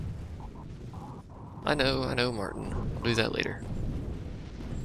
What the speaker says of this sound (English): There's a lot of explosions over there.